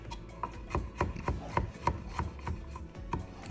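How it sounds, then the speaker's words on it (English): A knife chops ingredients finely on a board while making chicken and beef rice noodles, about a dozen quick, irregular knocks close by over soft rubbing sounds. "Just keep chopping and chopping and chopping."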